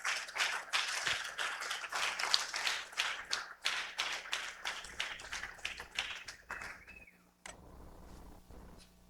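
A church congregation claps their hands during a worship service, a steady beat of overlapping claps at moderate volume that fades out near the end.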